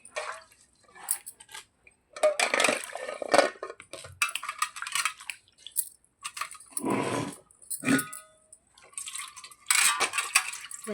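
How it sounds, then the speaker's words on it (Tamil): Curry leaf stems and coriander leaves are swished in water, making several bursts of splashing and dripping with quiet pauses between them. "இதையெல்லாம் தண்ணியில் போட்டு நல்லா அலசிடலாம்."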